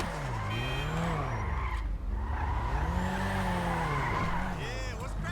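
A car drifts in the video game GTA Online with its drift mode engaged, and its tires squeal in long, wavering arcs over a steady engine roar that runs throughout the clip.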